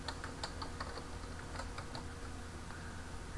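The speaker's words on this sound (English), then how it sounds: "Next, I need to confirm the password by retyping it." Quiet, rapid keystrokes on a computer keyboard while a password is retyped in a Linux terminal, a soft irregular patter of clicks heard close and alone.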